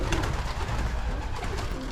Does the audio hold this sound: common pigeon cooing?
yes